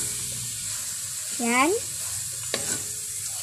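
Chicken cubes frying in a hot pan for empanada filling, a steady broadband sizzle running throughout with a brief voiced exclamation in the middle and a sharp clink near the end.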